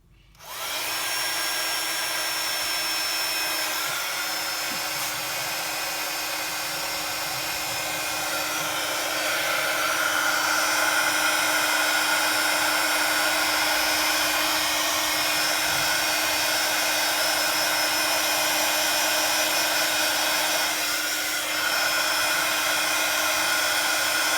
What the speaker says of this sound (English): I've got my embossing tool here